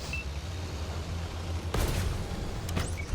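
A tank cannon shot in World of Tanks, a sharp blast breaking through a low engine rumble, followed by a few quick crackling impact sounds, moderately loud.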